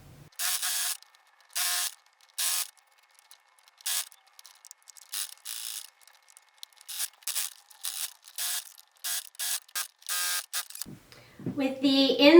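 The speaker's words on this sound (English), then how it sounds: "we're going to stitch down one side, around the gusset," A sewing machine stitches a baby footed sleeper seam down one side and around the gusset, in about a dozen short, sharp bursts of running that start and stop with near-silent pauses between them. A louder muddled noise follows at the end.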